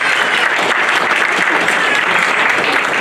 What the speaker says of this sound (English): give him our round of applause